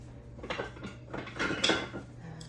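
Kitchen utensils rattle and clink in a drawer or crock while someone digs for a wooden spoon, a run of close, uneven clatters and knocks with no talking.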